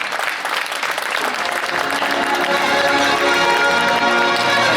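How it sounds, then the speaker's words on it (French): A crowd applauds at a prize ceremony for the Tour Nivernais Morvan cycling race, a dense, steady clapping that fills the whole stretch at close range and swells slightly louder toward the end. "vous faiblissez au niveau des applaudissements"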